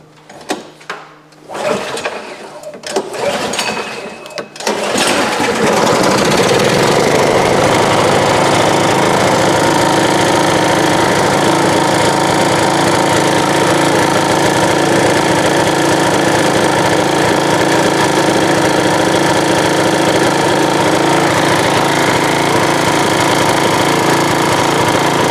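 A snow blower engine cranks with a few sputtering pulls, then catches and runs at a loud, steady drone while smoking heavily, close by and continuous for the rest of the clip.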